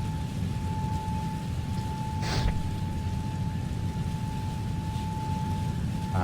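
Steady rain noise from a storm around an Airbus A320neo climbing in flight, a constant broadband hiss with a faint cockpit tone running throughout and one brief swell partway through.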